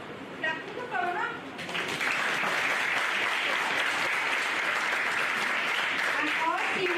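Students in a medical college lecture hall break into sustained applause, a dense, even wash of clapping filling the room for several seconds, with speech heard briefly before and near the end.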